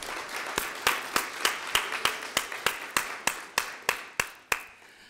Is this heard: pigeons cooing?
no